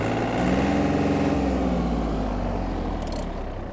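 Yanmar FX-255 Japanese mini tractor engine running steadily up close, its low rumbling drone holding an even pitch with slight shifts as the revs change, continuous and fairly loud throughout.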